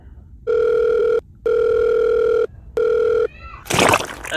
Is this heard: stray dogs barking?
no